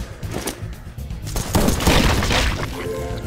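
Rapid gunfire in the zombie shooter game Run!ZombieFoods, a dense chaotic burst of shots and impacts building in loudness, with overlapping blasts and clatter.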